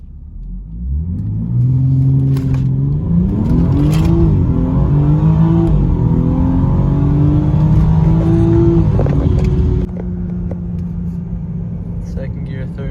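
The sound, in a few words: test cars revving and accelerating on a private track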